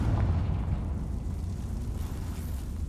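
A Confringo fire explosion spell goes off in Hogwarts Legacy, a loud, deep rumbling boom that rolls on steadily for a few seconds without fading much.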